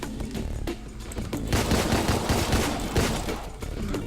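Gunfire in the shooter Deadbolt, with rapid overlapping shots building into a loud, continuous burst of bangs after a quieter start, close and dominant, no voices.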